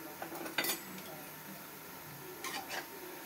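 Semolina rasgulla sweets are dropped into a pan of warm sugar syrup, with two quick, quiet metallic clinks of utensils against the pan over faint room noise.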